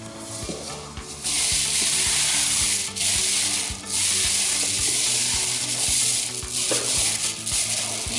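Frozen biscuit dough pieces are set one after another onto a metal half sheet pan, with a dense rubbing hiss and a steady run of light taps close by, no voices.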